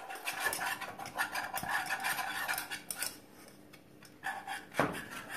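A chocolate cake mixture stirred by hand in a bowl, with a utensil scraping and clinking against the sides in a steady, close rhythm, plus one sharper knock near the end.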